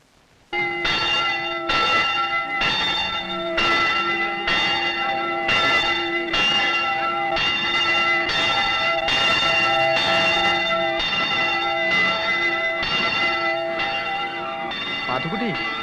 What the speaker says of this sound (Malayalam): പാത്തുക്കുട്ടി, പള്ളിമണിയല്ലേ കേക്കണേ?